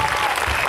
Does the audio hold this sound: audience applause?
yes